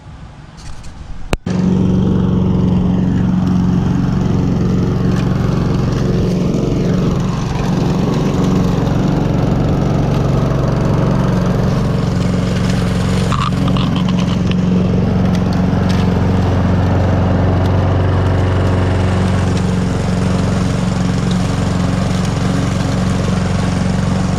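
A Honda HRX217 lawn mower engine starts with a sharp catch, then runs loud and steady at a constant drone nearby, with slight shifts in pitch as it keeps going.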